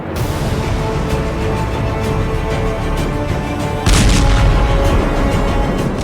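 A sustained low roar of distant blasts from the Iran–America war in West Asia, with a heavier, louder explosion rumbling in partway through.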